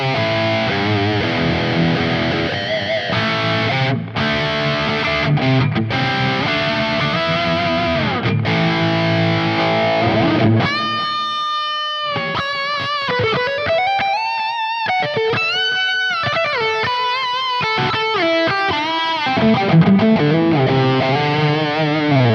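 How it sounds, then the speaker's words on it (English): High-gain electric guitar from a PRS SE Studio Standard through a Gojira plugin on a Quad Cortex, heavily distorted chugging chords giving way to sustained lead lines, loud and continuous with no talk. "if we want to try maybe a higher gain tone, I've switched my preset. I'm using the Gojira plugin on the Quad Cortex"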